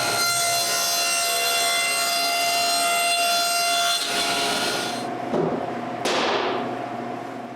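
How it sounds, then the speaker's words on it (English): Plywood being cut with a power saw to make patches for holes in a bathroom vanity, a loud steady whining drone for about five seconds that then cuts off, followed by brief scraping and a fading tail. "Now I need to close these 2 holes. It's quite easy. I just cut some plywood."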